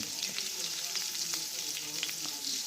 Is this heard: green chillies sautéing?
yes